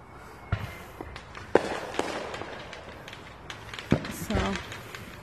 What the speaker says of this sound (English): just sitting at home, chilling, watching the neighborhood fireworks